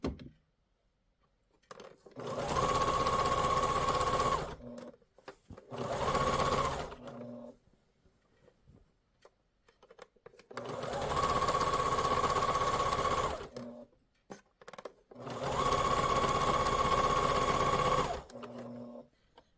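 A sewing machine stitches binding onto a quilt in four bursts of steady whirring, each a few seconds long, with short quiet pauses between runs and no talking.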